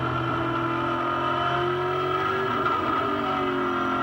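A 600-horsepower V8 Supercar engine held on light throttle at the Shanghai International circuit in a 2005 race, a loud steady droning roar with layered harmonics, close and continuous, with no talk.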